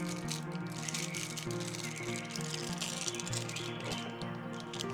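Small plastic bags holding case screws for a DIY electronics build rattle and crinkle close up in a dense, continuous scratchy rustle lasting a few seconds.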